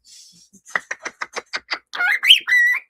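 A small pet bird chirps a quick, evenly spaced string of short notes, then slides into a louder warbling whistle, close by and alone.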